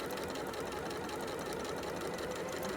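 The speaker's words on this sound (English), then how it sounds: "I'm sewing on my line" A sewing machine stitching quilt pieces for a snowman quilt at a short piecing stitch length, a continuous fast mechanical whir with rapid needle ticking, steady and close with no talk.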